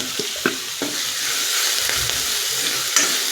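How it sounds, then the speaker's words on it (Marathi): Chopped green chillies frying in a pan, a close, steady sizzle with a few sharp scraping taps of a spoon stirring them. "मिरची ही आपल्याला चांगली भाजून घ्यायची आहे"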